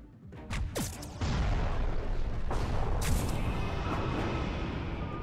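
Portal cannon attack in the space strategy game Halcyon 6: Starbase Commander, a series of loud booming blasts and bursts, building into a sustained roaring rumble of heavy fire that stays dense for several seconds.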